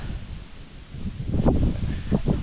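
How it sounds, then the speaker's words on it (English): Wind buffets and rustles outdoors in West Virginia in uneven gusts, with brief louder rushes partway through and near the end. "Pretty windy right now."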